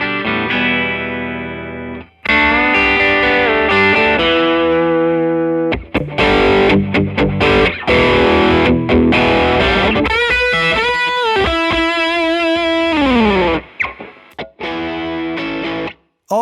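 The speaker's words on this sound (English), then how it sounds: "The TLM102 condenser microphone sounds surprisingly smooth" An electric guitar plays distorted blues licks with effects, captured through a Neumann TLM102 condenser microphone; sustained bends and chords ring loud and close, with a short gap between phrases.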